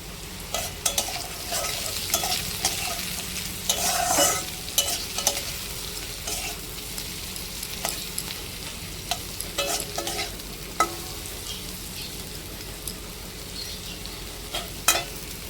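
Frying in a pan after turmeric is added, a soft steady sizzle under repeated spatula scrapes and sharp clicks against the pan at irregular intervals.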